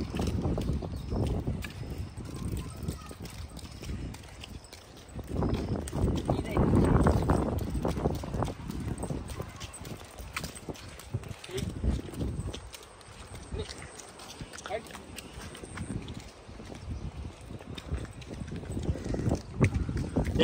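A Marwari horse walking with hooves clip-clopping in an irregular rhythm at close range, heard beneath someone talking almost throughout.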